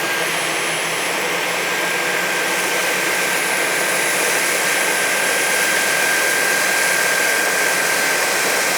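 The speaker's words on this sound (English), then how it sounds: "so I'm going to turn both Dysons, the V11 and the V8, on high" Two Dyson cordless stick vacuums, a V11 and a V8, run together on high power over carpet, giving a loud, steady high-pitched motor whine and airflow roar with a thin tonal hum that holds unbroken throughout, with no talking.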